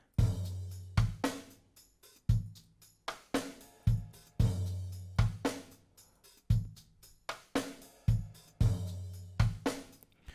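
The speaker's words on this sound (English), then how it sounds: "It's the snare. It's another snare. It's a clap." A programmed Afro pop drum groove in FL Studio loops a punchy kick with snares and a clap in a repeating syncopated pattern, sharp hits decaying quickly, solo and without speech.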